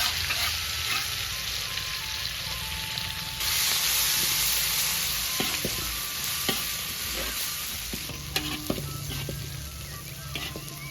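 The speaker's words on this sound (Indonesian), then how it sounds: "Sekarang bumbunya digoreng loh." Spice paste (bumbu) frying in a pan for village-style nasi goreng, a steady close sizzle and hiss with occasional scraping of a utensil stirring against the pan.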